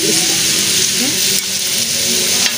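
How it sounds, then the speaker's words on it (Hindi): A breakfast dish roasting in a pan on the stove, giving a loud, steady sizzle and frying crackle with occasional stirring scrapes throughout. "अच्छी तरह इसको भून लेना है।"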